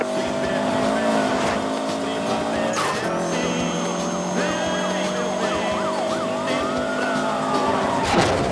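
A police pursuit in the video game Need for Speed Most Wanted, with wailing sirens rising and falling over roaring car engines and tire skids, close and loud, with voices mixed in.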